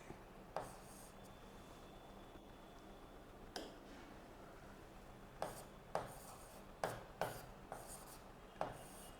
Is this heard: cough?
no